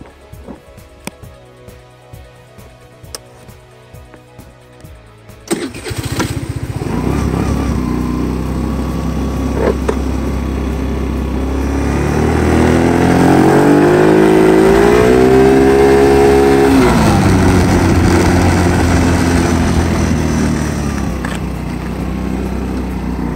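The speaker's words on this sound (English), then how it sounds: "I'm going to be going up the hill and back at wide open throttle" A 50cc scooter fitted with an 80cc big bore kit runs at wide open throttle, its loud, steady buzzing engine note rising and falling in pitch as it climbs, after a few seconds of quiet clicking before it pulls away.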